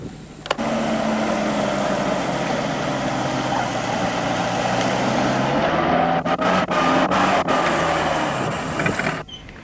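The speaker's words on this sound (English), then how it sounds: "I am now ready to use wheel winch to recover this hopelessly bogged vehicle" Wheel winch pulling a hopelessly bogged vehicle free, a steady mechanical whir and engine drone running for several seconds, broken near the end by a series of sharp ratcheting clicks before stopping abruptly.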